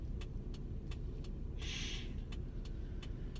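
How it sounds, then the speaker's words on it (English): Car interior road noise while driving to work, a steady low rumble throughout with a few light ticking clicks, likely a turn signal, and a brief hiss partway through. "I'm driving to work again."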